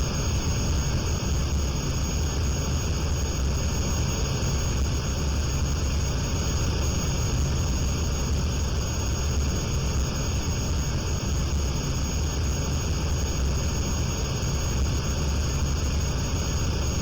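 A jet engine hums in steady flight in the Aerofly FS2 flight simulator over Switzerland, a loud constant drone with no change across the whole stretch.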